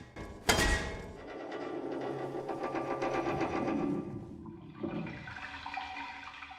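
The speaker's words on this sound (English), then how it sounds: "you're going to hear the same kind of metal rattling and flushing sound of water into the pipe" Metal rattling followed by water flushing into a pipe as a valve unlocks in the Battlefield 1 zombie room, opening with a sharp clank, then a sustained rushing, gurgling wash that cuts briefly before resuming more softly.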